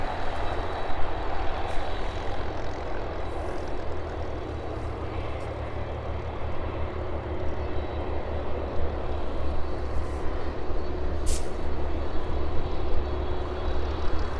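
A Boeing 747 cargo aircraft approaching runway 09 at an airport, a steady broad engine roar held at a distance for the whole stretch, with no voices.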